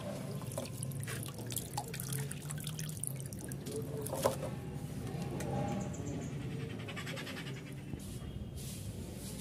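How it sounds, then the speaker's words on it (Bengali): Tap water runs steadily into a sink while cut water lily plant parts are washed, a soft continuous trickle with light drips and splashes and no talk over it. "এবার এগুলোকে ধুয়ে নিচ্ছি।"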